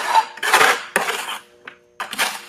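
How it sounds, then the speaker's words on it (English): Very dry concrete countertop mix being worked in a container, heard as a few loud, close scraping and clattering strokes separated by short pauses. "We'll continue to mix this a little bit."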